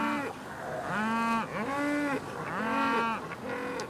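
Cattle moo repeatedly aboard a sailing ship held in quarantine, with three long, loud lowing calls rising and falling in sequence, close by and without any talk over them.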